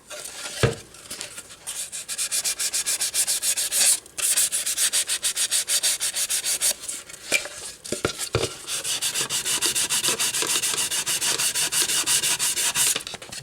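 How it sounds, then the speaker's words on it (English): A sanding block is rubbed back and forth against a veneer edge to put a slight bevel on it. The strokes are close, steady and rhythmic, with brief pauses between them and no talking. "I add an angle like this. Just a slight bevel."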